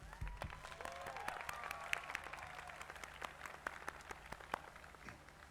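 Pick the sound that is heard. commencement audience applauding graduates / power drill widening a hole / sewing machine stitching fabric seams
commencement audience applauding graduates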